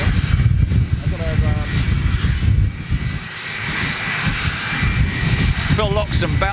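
EasyJet Airbus A320neo jet landing at Manchester Airport, a steady broad engine roar running throughout with nearby people talking over it.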